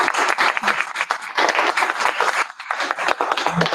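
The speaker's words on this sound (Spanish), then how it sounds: "pido un aplauso para cerrar esta" An audience closing a Spanish-language research lecture breaks into brisk, dense applause, loud and close throughout, with a short dip midway before it swells again.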